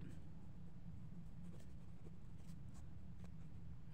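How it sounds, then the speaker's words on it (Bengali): A pen writes on paper in a quiet room, giving faint, close scratching strokes in short irregular bursts over a low background hum. "তাহলে আমরা একটা লেখা লিখব"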